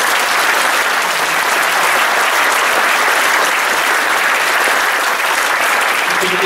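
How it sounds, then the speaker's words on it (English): A large audience at a BirdLife South Africa conservation gathering claps steadily and loudly throughout, a dense continuous wash of applause with no break. "If I can have a round of applause."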